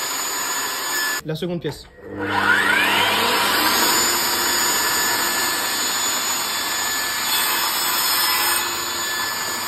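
A Mafell Erika 85 saw cuts through wood with a loud, sustained whirring rasp after a brief clatter and a short spoken phrase in French. The whirr continues steadily to the end.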